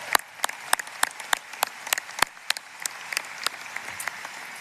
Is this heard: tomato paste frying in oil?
no